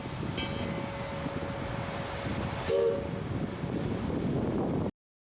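A steam excursion train on the Georgetown Loop rumbles along with a steady mechanical roar and a brief horn-like tone near the middle, then the sound cuts off abruptly.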